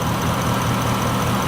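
Ford Raptor's high-mileage 6.2-liter V8 with a Banks Ram air intake idles steadily, a deep, even low rumble close by with no voices over it.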